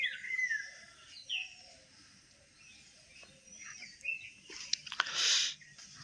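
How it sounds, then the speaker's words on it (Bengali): Several birds call and chirp outdoors on a morning at Garpanchakot, scattered short tweets, mostly faint and distant with one louder burst near the end. "কত রকমের পাখির আওয়াজ আসছে।"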